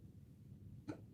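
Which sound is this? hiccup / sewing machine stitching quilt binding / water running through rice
hiccup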